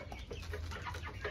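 Chickens clucking on a small poultry farm, soft and close with a low background hum, busy overlapping murmurs through the brief moment.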